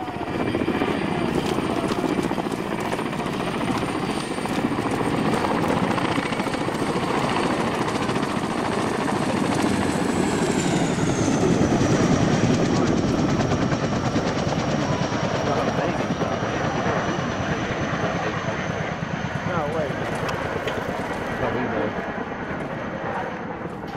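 Chinook twin-rotor helicopter in the Arma video game, a continuous loud rotor and turbine drone that holds steady over many seconds while its pitch slides slightly downward partway through.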